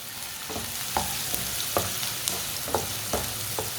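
Finely chopped onion fries in a pan with a steady sizzle, broken by a regular series of sharp spatula scrapes and taps roughly every half second, close and fairly loud.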